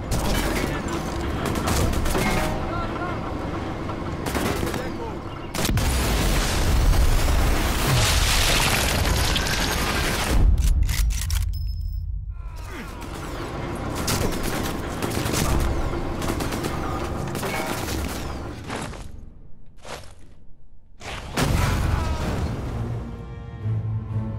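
Tank in the Sniper Elite 4 video game firing shells into the ground nearby, heavy booming blasts and rumbling explosions with mechanical clatter, loud and repeated, with brief quieter gaps between volleys.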